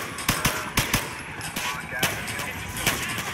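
MP5 submachine gun fire in GTA IV played in VR, several sharp short bursts and single cracks scattered across a few seconds, loud and punchy against a noisy game soundscape.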